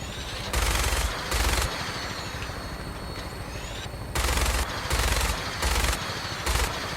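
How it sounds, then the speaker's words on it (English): Bursts of automatic gunfire from the video game Fallout 4 come in rapid fusillades, several loud strings of shots separated by short pauses. "Who's shooting at us?"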